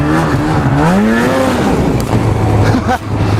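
A loud snowmobile engine runs steadily close by, its pitch rising and falling as it revs, with a constant mechanical drone underneath.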